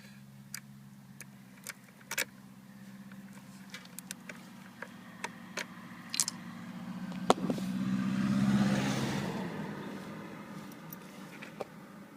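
A 2007 Suzuki SV650S motorcycle engine starts up close by: light ticks and clicks give way to a swelling mechanical whir and low hum that peaks, then settles back under scattered ticking.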